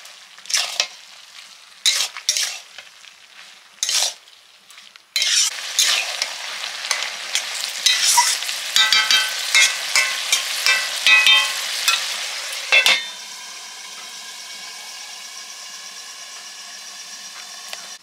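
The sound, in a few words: mustard and Kashmiri red chili paste frying in pan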